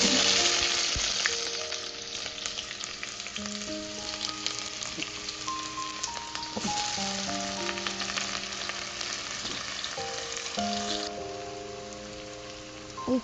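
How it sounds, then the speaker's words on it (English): Onions hiss and crackle loudly in a hot pan, a dense continuous sizzle with stirring clatter and occasional tonal clinks. "So the pan is really hot, so let's add our onions."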